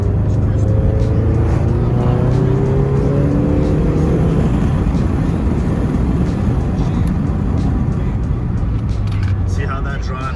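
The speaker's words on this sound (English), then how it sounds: "A little bit heavier throttle this time." A car with an upgraded intercooler accelerates under heavier throttle on a drive test, its engine note droning steadily and rising in pitch, loud and close, with a voice talking over it early on.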